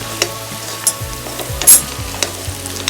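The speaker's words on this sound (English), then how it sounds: "This is the style of stirring the vegetable, so that the pieces remain in shape." Karela (bitter gourd) pieces frying in a pan, stirred up and down with a utensil: steady oily sizzle with a few distinct scraping knocks and one sharper clank, close and moderately loud, no voices.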